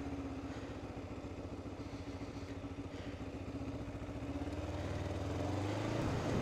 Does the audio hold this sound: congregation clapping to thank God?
no